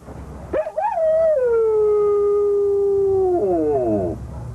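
Malnourished Afghan hounds caged in animal control cages let out a long, loud, steady howl that rises sharply, holds for several seconds and then breaks into wavering, falling whimpers, close and with no talking.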